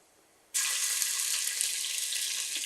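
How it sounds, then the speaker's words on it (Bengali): Water hits a hot pan of fried onion and ginger-garlic paste for thick masoor dal. After a moment of quiet, a sudden loud hissing rush starts and holds steady to the end. "একটু পানি দিই"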